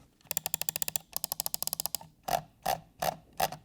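Keychron M6 wireless mouse with Huano microswitches clicked rapidly in quick bursts of sharp, loud ticks, followed by four slower, heavier single clicks, close up with no voices.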